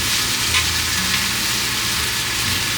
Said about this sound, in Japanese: 炒める